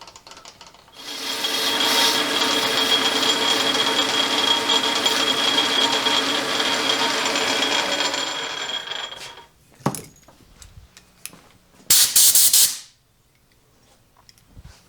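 A lathe cutting with a trepanning tool while making neon clock parts gives a steady, loud scraping hiss for several seconds, then stops, followed by a few brief sharp bursts and clatter.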